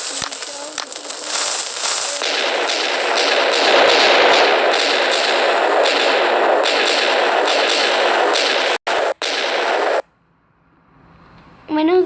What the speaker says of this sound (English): I know that wasn't the biggest explosion